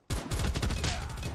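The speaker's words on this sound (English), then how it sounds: "Set friendly sentry gun deployed." A sentry gun in a video game opens up in a rapid, dense burst of automatic fire that starts abruptly and stays loud and continuous, with no speech over it.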